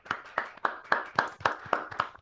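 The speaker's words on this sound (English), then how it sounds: "drop your controllers and clap some real hands" People clap their hands during a livestreamed VR awards ceremony, about eight sharp, evenly spaced claps heard close and fairly quiet in a steady rhythm.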